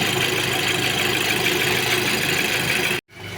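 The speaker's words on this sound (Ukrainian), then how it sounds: "просто завів його на холодну, він собі калатає" A cold-started Audi A6 2.0 FSI engine idles with a steady, loud clatter, running continuously before cutting out abruptly near the end and returning more faintly.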